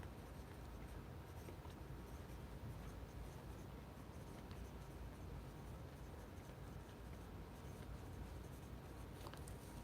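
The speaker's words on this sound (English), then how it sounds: "I'm gonna write that down right now" Pen or pencil writing something down, a faint, continuous scratchy rustle with light irregular strokes heard close up, alone without talk.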